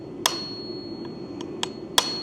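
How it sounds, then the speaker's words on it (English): A tack hammer taps tacks: four sharp, bright metallic strikes spaced irregularly over about two seconds, close and clear above a low steady background hum. "This is a tack hammer"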